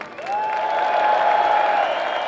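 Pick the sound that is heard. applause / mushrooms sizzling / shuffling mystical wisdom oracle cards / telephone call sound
applause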